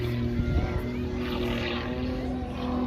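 A Pitts Special aerobatic single-seater making its final fly past at an air festival, its propeller engine droning steadily at moderate distance through a short stretch of sound.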